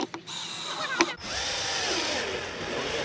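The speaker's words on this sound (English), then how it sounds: "Can I do the final screw?" A power drill drives the final screw into a DIY desk, with a few short clicks and bumps at first, then a steady close whirring hum that holds for about two seconds.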